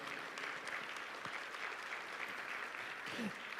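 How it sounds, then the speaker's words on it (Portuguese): Applause from a church congregation during a sermon, a continuous broad patter of clapping at moderate distance with a faint voice briefly audible near the end. "Pode aplaudir essa palavra que é muito forte."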